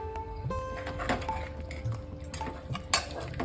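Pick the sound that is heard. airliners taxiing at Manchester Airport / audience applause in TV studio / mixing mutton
mixing mutton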